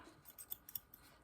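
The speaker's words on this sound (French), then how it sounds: "Ensuite, eh ben, on va couper tout autour avec le ciseau." Scissors cut paper around a stamp in a few short, quiet snips, each a crisp click with a soft rasp, spaced irregularly over a second with nothing else heard.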